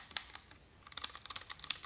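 Typing on a Vortex Core 40% mechanical keyboard with XDA-profile keycaps: a quick irregular run of crisp, close clicks and clacks, sparse at first then denser.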